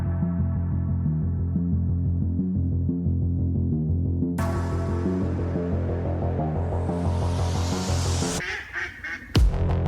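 Ducks quack in a rapid, loud run of honking calls that repeat rhythmically, with a burst of harsher noise near the end.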